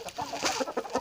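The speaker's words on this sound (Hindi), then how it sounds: "आप देख सकते हैं कितना शानदार मुर्गा है" A desi rooster clucks in a short series of close, throaty calls at a poultry farm, several quick notes in a row.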